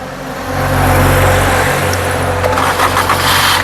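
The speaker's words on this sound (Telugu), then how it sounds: "సింగిల్ సెల్ఫ్లో కార్ స్టార్ట్ అవుతుంది" A 2018 Maruti Suzuki Brezza ZDI diesel engine turns over and catches on a single crank, settling into a loud, steady idle close by.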